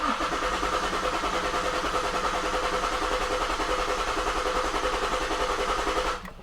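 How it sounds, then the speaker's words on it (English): A Ford Flex 3.5 EcoBoost engine cranks steadily without catching, a continuous whirring churn for about six seconds that then cuts off, close and loud with no voices. "The vehicle should not start, it'll just crank."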